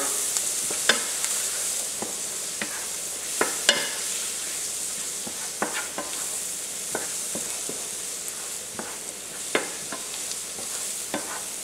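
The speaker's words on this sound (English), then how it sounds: "To this we are going to add in our flour. And we're going to give this a good stir." Flour stirred into softened onions in a pot with sausage drippings and butter, a steady soft sizzle under a scatter of light scraping taps as the spoon moves through the mixture, with no voices.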